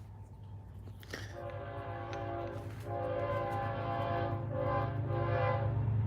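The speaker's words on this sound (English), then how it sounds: "this train is screaming, dude." A fast train rushes past close by, and its horn sounds a long, loud, harmonic blast over a steady rail rumble that grows louder as it approaches.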